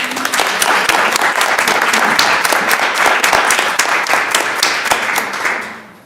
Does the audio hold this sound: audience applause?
yes